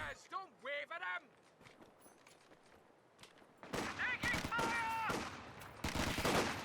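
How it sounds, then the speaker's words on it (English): Machine gun fire in a Company of Heroes 2 1v1 match, with rapid bursts of gunfire and battle noise that grow louder and denser in the second half, mixed with other game sounds. "this machine gun is of course going to be very strong against the British"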